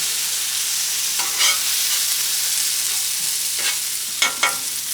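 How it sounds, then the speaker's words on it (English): Potatoes sizzle on a griddle at an off-grid cabin, a broad steady hiss with a few brief scraping turns of a spatula near the middle and end. "Mix them up a bit. Oh yeah, they're cooking."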